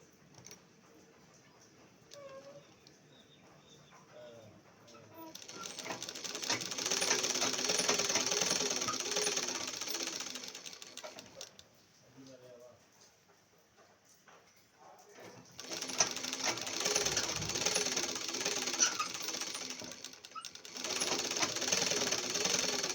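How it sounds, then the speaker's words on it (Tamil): An electric sewing machine stitches canvas onto a chudidar pant, running in two long bursts of fast mechanical whirring and ticking, separated by quieter pauses with faint handling noises. "கரெக்டாக பேண்ட்டோட உயரத்துக்கு நேராக வச்சு இந்த கேன்வாஸை தச்சிடணும்"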